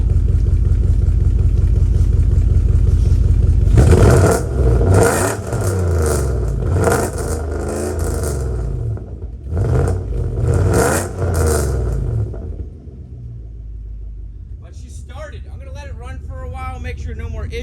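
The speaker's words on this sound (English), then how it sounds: "It's idling really rough actually, but it's not really misfiring much." A 1995 Mercedes W140 S500 engine idles roughly on bad fuel, its low uneven rumble broken by several revs in the middle before settling back, with someone talking over it.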